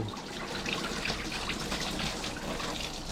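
Coolant from a 1995 Mercedes E320 3.2L inline-six engine being torn down pours into a drain tray as a steady, close splashing trickle, continuous for the whole stretch with no talk.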